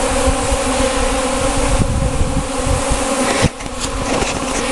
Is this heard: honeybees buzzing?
yes